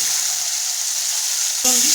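Washed chicken pieces go into hot oil over fried garlic, a loud steady hiss that swells abruptly near the end as the meat hits the pan.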